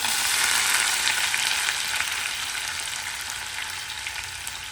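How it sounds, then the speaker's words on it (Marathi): Ginger, garlic and onion fry in hot oil with whole spices for a spicy chicken gravy, a loud, even sizzle that fades slightly over the seconds, with no voices. "आणि कांदा कांद्याला आणि लसणाला चांगलं लालसर होईपर्यंत भाजून घेऊया"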